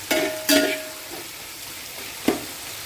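Onions sauté with salt in a pan for a squid roast. A few sharp stirring clanks and scrapes rise over a quiet, steady sizzle close by.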